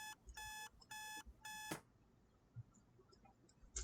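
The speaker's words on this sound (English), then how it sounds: "After shutting off my alarm" A morning alarm clock goes off with four loud bursts of rapid electronic beeping, then cuts out abruptly, leaving a quiet room with faint rustling.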